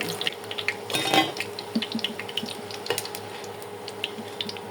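Cooking utensils clatter and scrape in a frying pan as fried eggplant fritters (beguni) are lifted out one by one, with scattered clinks over a low oily crackle of frying, close and moderately loud.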